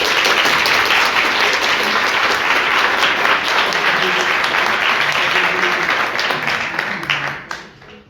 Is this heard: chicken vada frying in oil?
no